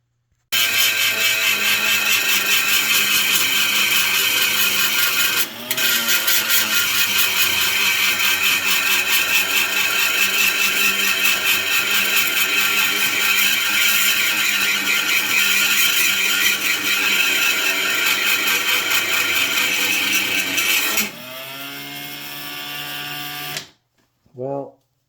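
An electric drill spins a worn sanding drum against grey alder wood, a loud, steady high-pitched whine that runs nearly nonstop for about twenty seconds, then drops to a lower grinding tone before cutting out.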